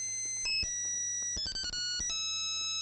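A mobile phone ringtone plays on its own, a run of bright sustained electronic tones with melody steps and short clicks between them.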